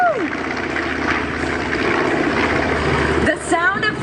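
Piston engines of a B-25 Mitchell bomber rumble steadily at an airshow, a loud droning roar throughout with a shift near the end, while people talk over it.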